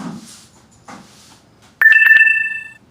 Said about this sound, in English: So my phone's about to die. It just kind of yelled at me.